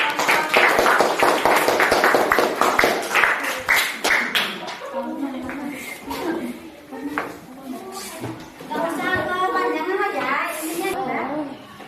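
An audience at a school coaching and supervision session claps in a burst of scattered handclaps that thins out, followed by people talking indoors.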